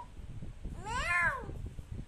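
A person's voice imitates a cat's meow, giving a single drawn-out, rising-then-falling mew close to the listener over faint room noise.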